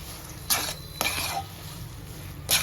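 Ghee-laced sheera being stirred in a pan with a small ladle, giving a few distinct scraping clinks against the metal roughly half a second apart over a low kitchen hiss.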